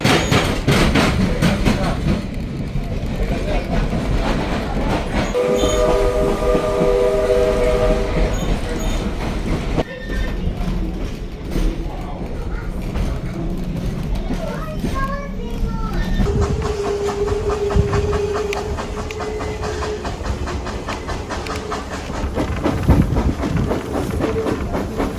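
A heritage steam-era train at Fort Edmonton Park rumbles along the rails, with steady clatter heard from inside a passenger car, a brief horn or whistle tone partway through, and faint voices in the background.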